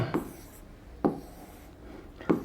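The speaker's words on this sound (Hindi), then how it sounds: "अगला नाम यहां लिखता हूं" Chalk or marker strokes on a classroom board during a general-knowledge lesson, three separate short scratchy writing sounds spaced about a second apart, close and clear with no talk.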